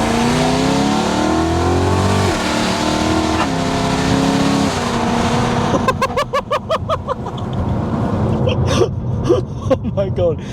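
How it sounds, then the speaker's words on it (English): BMW E92 M3 with a loud custom exhaust revving hard, a rising engine roar that breaks into sharp bursts and crackles, with excited voices exclaiming over it. "the racket that's going to be coming off the new exhaust"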